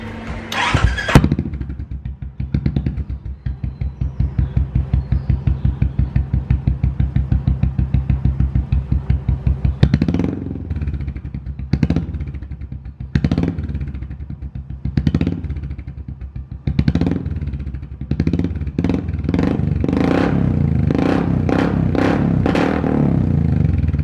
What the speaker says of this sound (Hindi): तो अभी एग्जॉस्ट में सुनाते हैं मेरा एनफील्ड का